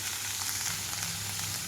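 Cauliflower pieces fry in a covered pan over a low flame, giving a steady, soft sizzle with faint crackles throughout.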